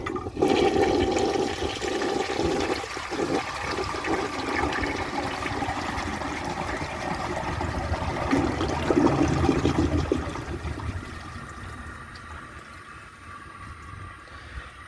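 A 1960 Standard Cadet toilet flushing a bowl of dirt: a loud rushing gush of water right up close, churning steadily for several seconds before easing into a quieter refilling trickle.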